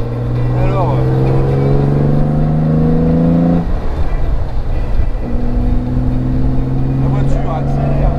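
A Jaguar E-Type Series 2 accelerates hard on a dry road, its engine note climbing steadily, dropping briefly at a gear change, then rising again. The sound is loud and close throughout.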